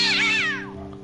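A cat in the video game Story of a Gladiator lets out one clear, loud meow that bends downward and fades quickly.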